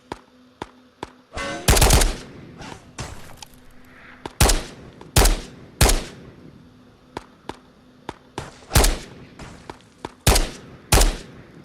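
Gunfire in the VR shooter Ghosts of Tabor, with single shots and short bursts cracking loud and close at irregular intervals over a quiet background.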